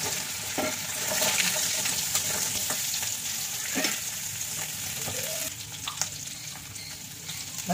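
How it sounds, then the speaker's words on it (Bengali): Potatoes frying in fully heated mustard oil, a dense, steady sizzle close by with occasional spatters and stirring clinks throughout, no voices. "সরষের তেলে করছি, পুরো গরম হয়ে গেছে, আগে আলুগুলোকে ভেজে নিচ্ছি"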